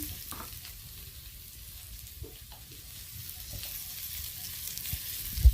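Potato pieces frying in oil with a little salt and turmeric, a moderate steady sizzle close by with soft stirring scrapes, growing slightly louder toward the end, no speech.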